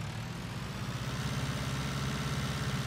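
Massey Ferguson tractor engine in Farming Simulator 19, a steady low idling drone with a rhythmic throb, holding at an even level without break while the tractor's wheels sink gradually into soft ground.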